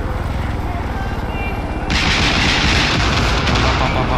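Missiles exploding in Far Cry 5, a loud sustained roar of blasts and gunfire-like rumble that jumps sharply in intensity midway and stays dense to the end, with a voice briefly heard underneath.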